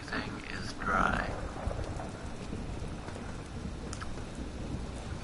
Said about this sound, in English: the rain is coming in.